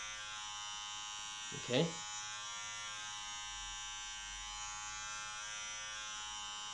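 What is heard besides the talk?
electric hair clipper cutting hair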